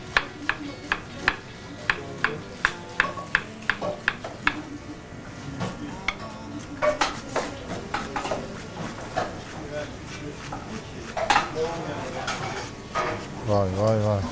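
A knife chops onions very thin on a board in a kitchen, first as a quick, steady run of sharp taps, then as scattered, uneven strokes, with voices talking nearby.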